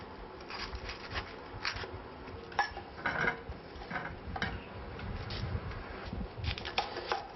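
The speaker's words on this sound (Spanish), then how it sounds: "Cortamos el pimiento verde y el pimiento rojo." Knife chopping green and red peppers on a cutting board in a kitchen, with a gas burner heating oil nearby, giving irregular close clicks and taps against low background clatter.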